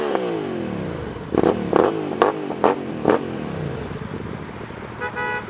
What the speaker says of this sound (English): Let's see if we can get this guy into a revving match.